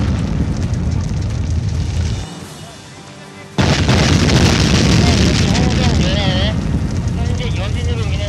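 Secondary explosion during a building collapse disaster drill in Hongseong, South Chungcheong, a loud rumbling roar that cuts out briefly, then resumes as a sustained blast with debris noise and sirens, with a voice speaking over it.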